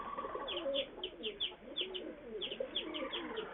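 Sabja pigeons and ordinary pigeons in a loft coo softly and repeatedly, with light chirpy calls overlapping at a steady moderate level and no voices.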